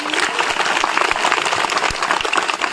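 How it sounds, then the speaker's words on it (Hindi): A crowd applauds with dense, continuous clapping that holds steady throughout, fairly close and lively. "एक बार जोरदार तालियां उन सिपाहियों के लिए।"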